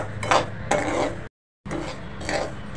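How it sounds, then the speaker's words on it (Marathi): Amaranth grain being roasted in a pan for fasting thalipeeth gives a close, dry scraping and clinking of a spatula against the pan, in two stretches broken by a short silence. "राजगिरा छानपैकी भाजून घेऊया."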